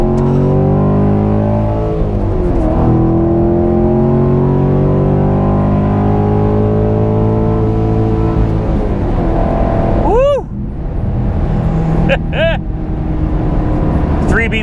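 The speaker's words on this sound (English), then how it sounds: "Let's launch it around this corner." A 2019 Corvette launches hard around a corner, its engine climbing through rising revs with a gear shift, then sharp chirps near the end, loud and close.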